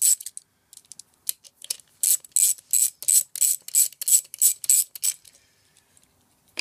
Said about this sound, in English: there's two little nuts in here which I'm going to undo. I'm going to use a 10mm spanner